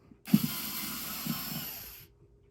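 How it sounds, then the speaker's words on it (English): Short screws being backed out of the top plate of a MiSTercade arcade case, a close, quiet ratcheting screwdriver whir lasting under two seconds with a couple of sharper clicks at the start. "We're gonna do that by unscrewing these two."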